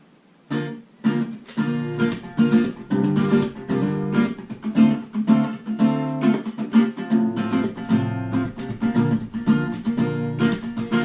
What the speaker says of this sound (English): that's basically how you play the strumming pattern for the chorus